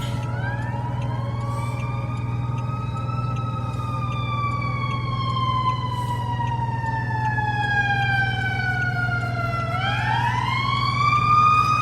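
An emergency rescue squad vehicle passes through a downtown street with its siren wailing, a loud, steady rising-and-falling sweep that glides lower as it goes by, over a constant low engine rumble.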